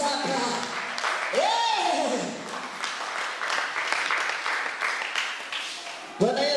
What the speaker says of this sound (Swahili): mpigie makofi mengi